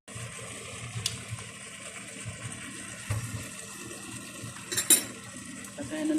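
A spoon stirs a spiced chicken mixture for biryani in a pot, making soft scraping and faint clinking sounds with a few louder knocks against the metal.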